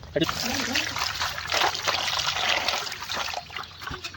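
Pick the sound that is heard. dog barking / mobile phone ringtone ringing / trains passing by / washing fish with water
washing fish with water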